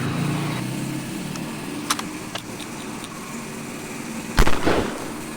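AWM sniper rifle fired in a mobile shooting game while hunting animals: a few sharp, punchy shot cracks over steady game ambience, with the loudest, fullest blast near the end.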